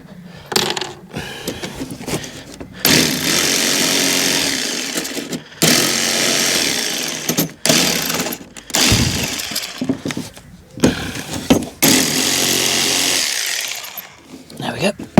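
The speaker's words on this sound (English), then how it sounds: "I'll just drill another hole. Take the rest of these screws out" A power drill drives into and backs screws out of a wooden shed door in repeated loud bursts, with short gaps, clunks and a voice in between.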